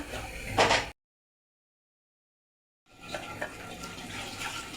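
Water being poured into a pot of vegetable stalks cooking for a kachki fish and potato chorchori, a short splashing pour at close range, followed after a silent break by softer kitchen noise.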